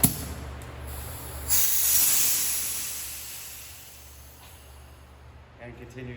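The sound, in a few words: air leaking from a truck air bag suspension fitting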